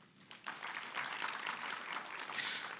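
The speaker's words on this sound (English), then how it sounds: "Let's give a good round of applause." A crowd gives a steady round of applause for the CEO of Insurance SETA at the BOM Finale 2025 gathering; dense clapping swells in after a brief quiet start and holds evenly at moderate loudness to the end.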